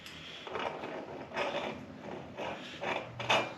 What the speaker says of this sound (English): Now to remove the crank arms.